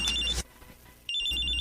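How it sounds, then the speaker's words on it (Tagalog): Cellphone ringtone for an incoming call, two bright electronic ring bursts separated by a short pause, close and clear with no voices. "May tumatawag sa cellphone ko."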